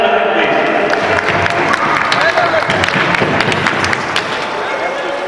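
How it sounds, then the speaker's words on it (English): An audience in a shopping mall applauds during a quiz at a company event, loud, busy clapping with crowd noise that stays steady and then eases slightly toward the end. "Can you clap for Abdul, please?"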